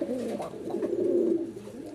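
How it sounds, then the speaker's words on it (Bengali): Large black-checkered Rajgolla pigeons with white tails coo in a steady, low, rolling murmur, close by and continuous for two seconds with no other sounds. "মাশাআল্লাহ দর্শক, বিগ সাইজের রাজগোল্লা কবুতর, একটু ব্ল্যাক চেকার আছে, কিন্তু দুটারই লেজ সাদা।"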